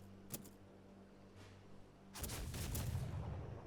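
Cannon fire in a Britain versus Russia multiplayer battle game, scattered sharp bangs followed by a dense rumbling barrage of booms, faint and distant overall.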